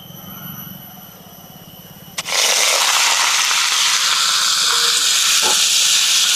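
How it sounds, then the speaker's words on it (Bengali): Boiled banana flower hits hot oil in a kadai at about two seconds, bursting into a loud, steady sizzling hiss that holds to the end after a quiet start. "আজকে আমি এটা একটু তেল দিয়ে একটু হালকা ভাজে নিব।"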